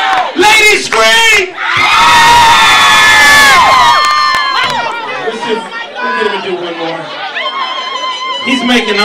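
Crowd of women screaming and cheering at a live show, a loud, sustained burst of high shrieks and whoops that swells then trails into scattered shouts and chatter.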